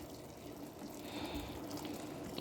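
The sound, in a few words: hot water poured into a soup pot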